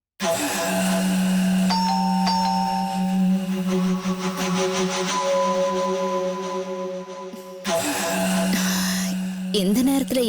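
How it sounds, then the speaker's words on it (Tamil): A calling bell at a home in the middle of the night rings as a long, sustained electronic chime, then stops briefly and rings again in a loud, steady melodic tone. "இந்த நேரத்துல யார் வந்து பெல் அடிக்கிறா?"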